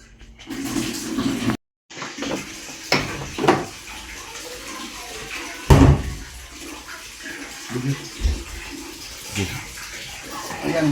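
Water gushes and splashes in uneven bursts as a Samsung automatic top-load washing machine with a drain problem is tested, with clunks and knocks mixed in and voices talking intermittently over it.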